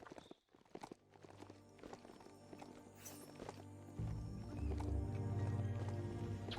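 A horse in the video game Biomutant moves with soft clip-clop hoof steps and a brief whinny-like call. A louder droning game sound swells in the second half, and nobody speaks.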